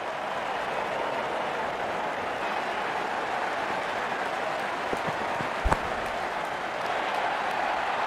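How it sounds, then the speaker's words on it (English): Stadium crowd at a cricket match applauding a batsman reaching fifty in the ILT20 final, a broad steady roar of clapping that holds throughout, with a couple of louder sharp knocks near the middle. "Good innings and gets a grand applause."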